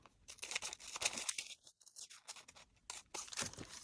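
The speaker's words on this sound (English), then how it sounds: "So you're gonna cut from the waist to the armhole" Scissors cutting through a paper sewing pattern piece for a bust adjustment: a quiet, close series of crisp snipping and rustling paper sounds, with a short silent gap midway.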